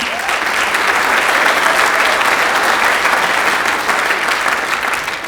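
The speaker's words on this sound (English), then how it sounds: "Another round of applause for them." A concert audience at an honor band event applauds a student choir, a loud, dense wash of clapping from many hands that stays steady for several seconds.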